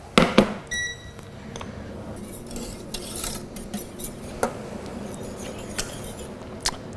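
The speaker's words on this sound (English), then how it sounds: "the sugar and the agar-agar mix directly into the cold puree. I whisk it until there's no more lumps" A whisk scrapes and clinks against a bowl while sugar and agar-agar are beaten into cold fruit puree, a close, irregular run of metallic ticks and rasping strokes.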